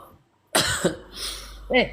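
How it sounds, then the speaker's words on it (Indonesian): A couple of sharp, close coughs with a throat-clearing quality, separated by a brief pause, after a moment of near silence. "Batuk kamu."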